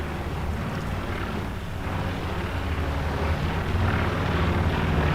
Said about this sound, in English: Recon plane goes up, looking for the tanks